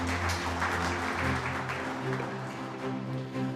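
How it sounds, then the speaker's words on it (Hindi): Audience at a youth entrepreneurship event in Jaipur claps steadily for a speaker, a dense sustained applause lasting several seconds with faint background voices underneath. "एक बार जोरदार तालियां सर के लिए"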